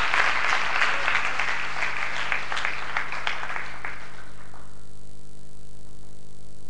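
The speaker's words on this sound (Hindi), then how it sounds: "जोरदार तालियां उनके लिए।" A crowd at a poetry evening at Pt. Todarmal Smarak Bhavan applauds the second-place winner: about four seconds of loud, dense clapping that quickly fades into quiet room tone.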